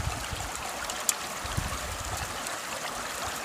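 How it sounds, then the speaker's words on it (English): Water runs steadily through a gold prospecting sluice box outdoors in Alaska, giving an even, continuous rushing and trickling wash at moderate level with no pauses. "You want even flow going across the sluice."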